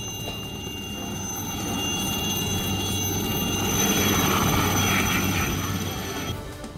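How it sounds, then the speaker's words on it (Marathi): A coast guard helicopter during a sea rescue of a stranded ship's crew gives a loud, continuous drone of engine and rotor noise that swells slightly midway and holds steady throughout. "तटरक्षक दलाच्या हेलिकॉप्टरनं खलाशांच्या सुटकेचे प्रयत्न"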